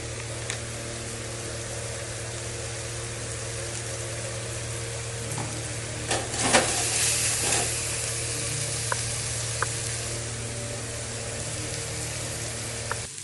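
Chili frying in hot oil for a prawn and whole moong dish gives a steady low sizzle, with a few sharper spits and a brief louder burst midway, under a constant background hum.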